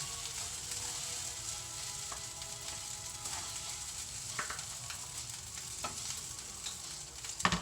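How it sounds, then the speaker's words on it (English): Rice stir-fried in a hot pan gives a steady, close sizzle throughout, with occasional scraping and clinks of a utensil moving the grains, plus a slightly louder clatter near the end. "it's just a matter of keeping the rice moving so you don't burn it to the bottom of the pan"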